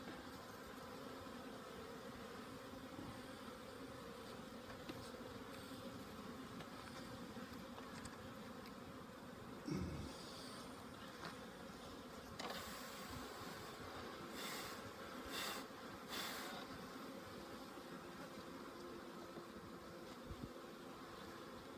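Honey bees swarm around an open hive during an April inspection, making a continuous soft buzzing hum with a few brief knocks and handling sounds.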